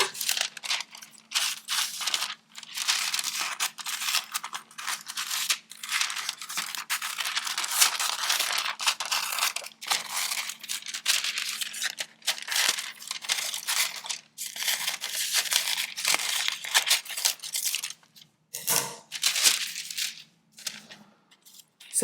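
Scissors snip and crunch through a thermal printer tattoo stencil sheet, close and continuous, with rapid cuts and paper rustling throughout.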